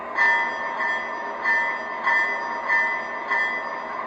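A small electronic bell from a Lionel model train's Rail Sounds 5 sound system dings steadily, about twice a second, ringing out in a quiet room with a faint hiss underneath.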